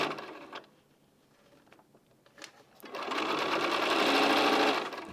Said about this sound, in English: I'm just sewing them as they are. I am locking my seams together.